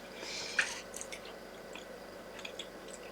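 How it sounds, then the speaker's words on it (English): Someone chews a piece of chocolate close to the mic, soft wet squishing and a few small bites, quiet and intermittent. "might as well have a little bit of chocolate"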